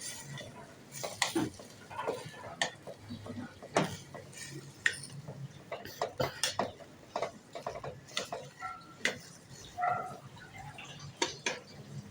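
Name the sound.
stirring sautéed vegetables in a pot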